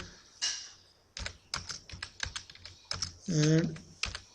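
A computer keyboard being typed on during a live Nifty options trading session, a quick irregular run of sharp clicking keystrokes close by, with a brief burst of voice partway through.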